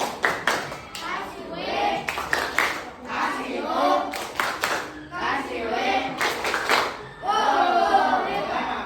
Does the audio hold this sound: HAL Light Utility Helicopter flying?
no